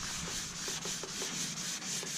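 A napkin rubs varnish into a zebrawood table top in steady back-and-forth passes, a soft close rhythmic swishing with no voices.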